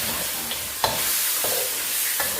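Pork ribs and holy basil being stir-fried in a pan until the liquid dries, giving a steady close sizzle broken by a few scraping stirs of the spatula.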